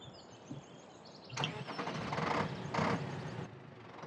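A tractor engine starts up in Farming Simulator 17 with a quiet click and then a cranking rumble. The rumble swells in two bursts and settles, heard faintly with no talking.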